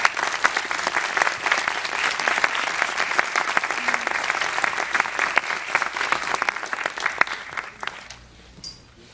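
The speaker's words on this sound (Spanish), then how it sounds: "Por favor, un aplauso" Audience applause at a lecture and screening in a Tijuana cultural center, loud dense clapping with sharp individual claps that keeps up for about eight seconds, then quickly dies away to near silence.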